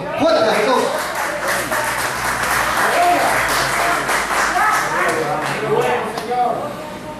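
Church congregation applauding loudly after a sermon line about Jesus, a dense, steady wash of clapping lasting several seconds with voices mixed in underneath.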